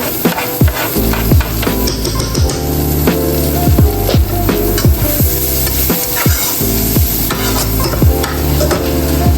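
Garlic stir-fried in a hot pan while making tapsilog, a loud continuous sizzle with repeated scraping strokes of a spatula against the metal at an uneven rhythm.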